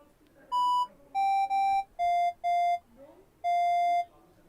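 An IR-controlled hobby robot plays a programmed tone melody, a series of six clean electronic beeps at shifting pitches, short notes and one longer final note, separated by brief quiet gaps.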